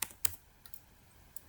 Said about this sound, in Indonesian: kita coba ketik aja